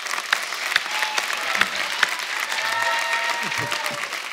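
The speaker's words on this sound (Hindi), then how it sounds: "आप सबकी जोरदार तालियों के बीच में स्वागत करना चाहूंगा" A studio audience on a comedy show applauds to welcome a guest, a dense sustained wash of clapping with scattered louder claps and faint crowd voices beneath.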